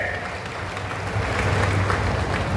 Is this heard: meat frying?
no